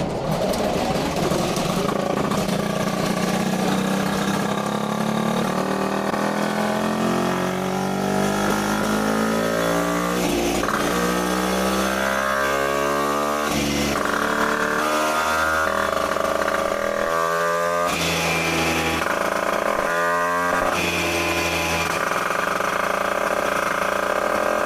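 Engine of an MBK Magnum Racing 100cc moped at its first start-up, a loud close buzzing two-stroke that idles, then revs up and down several times with rising and falling pitch, steady throughout.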